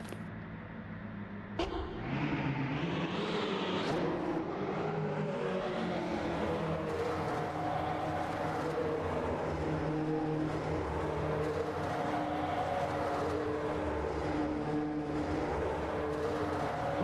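A BMW drift car in a virtual drift racing game roars to life after a sharp start, then holds a loud, steady, high-revving engine drone for the rest of the run, with no talk over it.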